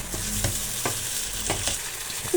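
Potatoes and chicken fry in a pan for creamy aloo chicken palak, giving a steady close sizzle with several louder scraping stirs spaced through it.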